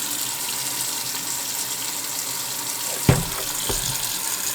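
Cold water runs steadily from a kitchen tap into a sink while kimchi brine is rinsed out, a constant close hiss with a couple of brief splashes or knocks near the end.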